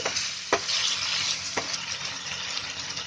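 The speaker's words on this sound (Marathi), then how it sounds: "आता आपण तेलामध्ये आहे ना ते चांगले फ्राय करून घ्यायचे, म्हणजे थोडे हलके शिजवून घ्यायचे" Food frying hard in hot oil over a high gas flame, a dense steady sizzle that runs throughout, broken by a couple of sharp scraping knocks from stirring.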